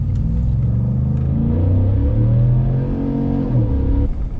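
A Ford F-150 FTX with a 5-liter Coyote V8 revs up close and loud, its deep rumbling note climbing and holding before dropping off sharply near the end.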